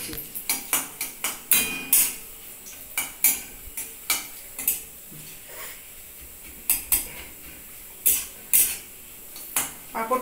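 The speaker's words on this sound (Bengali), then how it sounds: "পাঁপড়টাকেও একটু ভেজে নিচ্ছি সর্ষে তেল দিয়ে।" Papad frying in a little mustard oil in a pan, heard as a rapid series of sharp crackles and utensil clatters in uneven bursts, close and fairly loud, with no talking.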